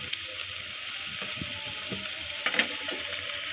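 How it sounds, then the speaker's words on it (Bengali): Crab frying in a pan for a spicy crab dish gives a steady, close sizzle, broken by soft scrapes and clinks as it is stirred, with a sharper pair of knocks near the end. "এটা আম্মু এখন নাড়িয়ে ছাড়িয়ে দিচ্ছে।"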